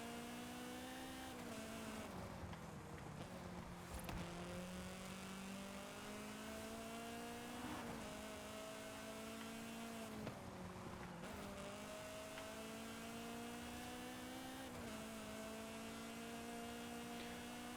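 Lancia Delta S4 engine in the video game Forza Horizon 5, a steady droning hum with gentle pitch rises and dips as it revs, continuous and fairly faint throughout with no talking.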